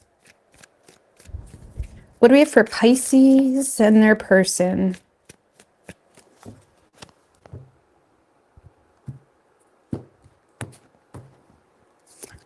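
Tarot cards are handled and shuffled softly in a few quiet taps and shuffles after someone speaks briefly.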